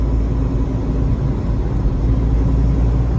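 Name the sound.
car engine driving in fifth gear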